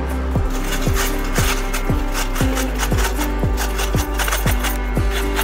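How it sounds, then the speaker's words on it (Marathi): Peeled raw mangoes are grated on a large sickle-style grater, giving loud, close, regular rasping strokes about every half second, each with a scraping swoop, steady rhythm, no talking. "आता आपल्याला मोठ्या विळ्याच्या किसणीने किसून घ्यायचं आहे।"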